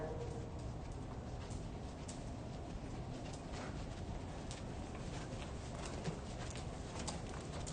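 A horse walks in a riding clinic lesson, its hooves making a soft, steady clip-clop close by over a constant broadband background.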